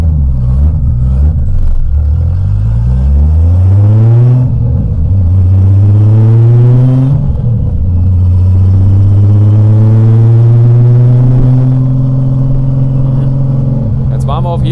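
A VW Golf engine with a faulty valve cover pulls through the gears while driving, each rev climbing in pitch then dropping at the shift, loud and close from inside the car, with someone talking over it.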